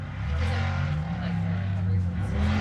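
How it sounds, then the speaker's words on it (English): Powerful off-road race car engines roar continuously at a desert race start with a deep, throbbing rumble, loud and close, with voices faintly mixed in. "You can just hear the horsepower in them."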